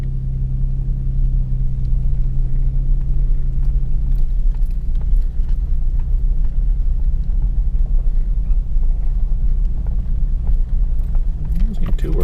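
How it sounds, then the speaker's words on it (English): Low, steady vehicle rumble from a busy road, continuous and loud throughout, with a droning engine tone early on and faint voices mixed in. "It's a high traffic area."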